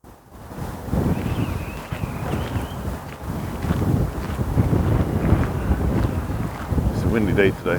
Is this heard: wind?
yes